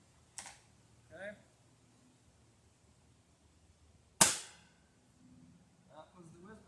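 A Whisper Fusion air rifle fires a pellet into the ground, one sharp loud crack with a brief decaying tail, amid quiet background with faint clicks and handling noises before and after.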